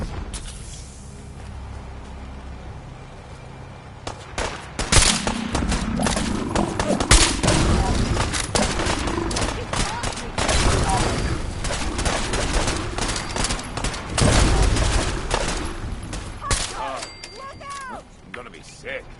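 Heavy battle gunfire from Fallout 4's Far Harbor, with dense volleys of rifle and automatic shots crackling and booming in loud overlapping bursts, swelling in intensity, with voices shouting over the fight.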